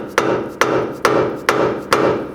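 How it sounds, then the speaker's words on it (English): Five evenly spaced, solid thuds as a dead blow hammer taps a 2010–16 Buick LaCrosse front lower control arm to free the ball joint, each strike close and dull with a short decay. "You can take a dead blow hammer and see if you can tap on the lower control arm"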